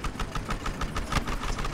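Motorcycle engine in the video game Battlefield Hardline, a steady droning idle with a rhythmic pulsing throb that holds at a constant, fairly loud level throughout, with no talking.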